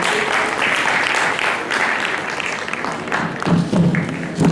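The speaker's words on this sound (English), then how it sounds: "Please give a huge round of applause." Audience applause at a college entrepreneurship summit after a speaker's session, a broad steady clapping that swells near the end, with some voices beneath.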